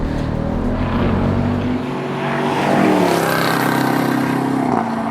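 A Jeep Grand Cherokee Trackhawk accelerates at full throttle, its engine note loud and close, rising steadily in pitch as it builds speed over several seconds, with no talking.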